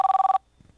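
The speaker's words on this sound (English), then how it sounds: "Miles, is that your phone ringing?" A telephone rings once in a short, rapidly pulsing electronic trill lasting under half a second, then cuts off into near silence.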